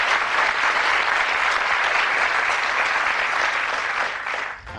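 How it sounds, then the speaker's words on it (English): Warm studio audience applause on a 1982 Bullseye darts game show, a dense, steady wash of clapping that holds loud throughout and tapers off at the very end. "Give Angus a nice warm round of applause as he throws the challenge"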